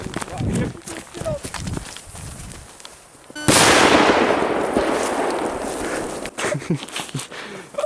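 An NWP bumbum firecracker explodes on grass with one sharp loud bang, followed by a long crackling, hissing tail; footsteps and rustling precede the blast.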